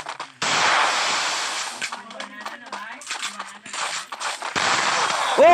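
Desert Eagle pistol shots from the Garena Free Fire video game ring out as several sharp bursts among game noise, with an excited voice commentating over the action.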